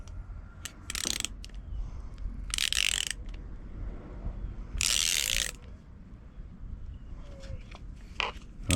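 The swivel mount of a Lowrance Hook 5 fish finder is tightened by hand, producing several short bursts of ratcheting clicks separated by quieter pauses and small handling knocks, close up and with no voices.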